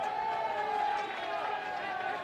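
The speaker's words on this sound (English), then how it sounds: "Crowd's happy with the success so far of the home team." Crowd at a men's lacrosse championship game, Westminster at Grove City, makes a steady, moderately loud murmuring roar for the home team beneath a commentator's voice.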